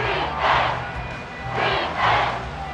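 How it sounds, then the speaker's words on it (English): Stadium crowd at Arrowhead roaring in the Madden NFL 24 video game, a loud, continuous roar that swells in three waves, with no talk over it. "The Arrowhead crowd in full roar"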